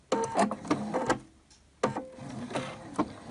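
A sewing machine stitches down the middle of a zipper bracelet in close, quiet bursts of rapid mechanical whirring, a brief pause between two short runs.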